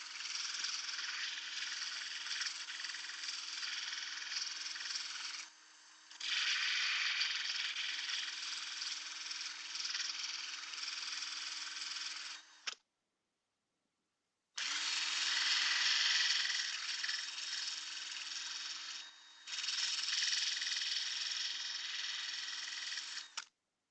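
A drill press fitted with a sanding chuck whines at a steady pitch in long runs while sharpening the tip of a 3D-printed gauntlet hinge, stopping briefly twice and once for a longer pause before starting up again.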